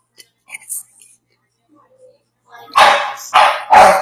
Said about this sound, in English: with the dog barking